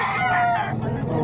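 A rooster crows once at a gamefowl market, a loud, close, strained call that fades out within about a second over background bustle.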